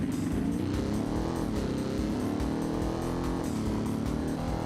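Lawnmower-engine car in a video game, driving down a car jump arena: a loud, continuous buzzing engine drone that rises and wavers in pitch with speed, heard alone.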